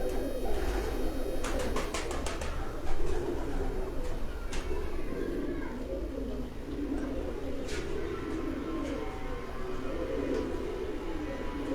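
Pigeons coo steadily from a rooftop loft in Jalalpur Bhattian, a continuous soft throbbing chorus close by, with occasional sharper chirps and bird calls cutting through.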